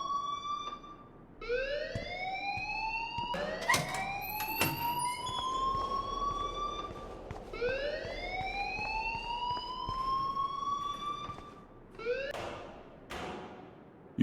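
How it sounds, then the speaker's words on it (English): Video game alarm wailing in repeated rising sweeps, each rising over about two seconds and then restarting, loud and insistent over a low background, with no talking. "please turn off that alarm"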